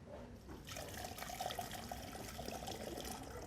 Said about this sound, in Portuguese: Vou mostrar como a água escoa